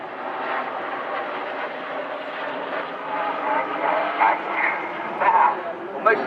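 Display team jet aircraft roar past at the RIAT 2014 air show, a loud sustained rushing drone that swells slightly toward the end while an announcer talks over it.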